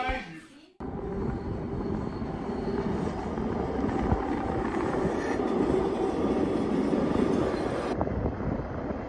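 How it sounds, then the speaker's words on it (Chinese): A long freight train hauling coal or goods passes in wintry northeast China at about minus 20 degrees, a loud, steady rumble and clatter that starts abruptly and holds unbroken. "这个火车好像是拉煤的还是拉货的，好长好长的。"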